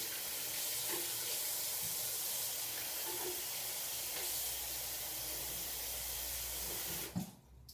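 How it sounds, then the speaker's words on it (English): Hot tap water hisses steadily into a spray bottle for several seconds, then cuts off with a brief clunk and quiet. "I'm just gonna fill my spray bottle up with hot water again."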